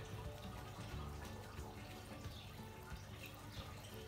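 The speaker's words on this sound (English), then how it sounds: "I am going to water these plants." Faint, steady trickle of water poured from a cup onto indoor house plants, a soft continuous splashing with no talk.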